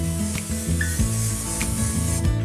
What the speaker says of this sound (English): I'm gonna spray it with some Pam.